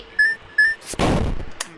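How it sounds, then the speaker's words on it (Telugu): A short, loud explosion blast from the video game Level Devil, a sharp burst that decays quickly, preceded by two brief high electronic tones. "ఈసారి బాంబు పేలింది"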